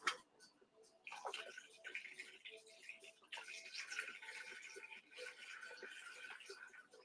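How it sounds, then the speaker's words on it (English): Water trickles and splashes quietly as it is poured into a tray holding plant roots, in soft uneven bursts with a sharp clink at the start, close and fairly faint. "all you want to do is fill up the water to where it's touching the roots"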